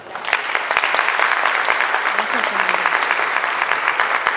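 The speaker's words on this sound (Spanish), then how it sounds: "les pido una gran bienvenida a través de un aplauso para dar y recibir a la doctora Laura" Audience applause welcoming a guest speaker to a chocolate and cacao workshop, a steady wash of clapping from a crowd that holds fairly even throughout, with faint voices mixed underneath.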